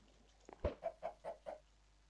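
A Minecraft chicken clucks in a short run of four or five evenly spaced, fairly faint notes, heard alone with no talking.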